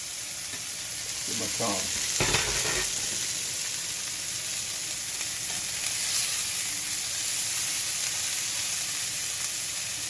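Meatballs sear in a hot pan with a constant bright sizzle that runs throughout, broken by a few brief clinks and stirring knocks near the start, while someone mutters a short remark.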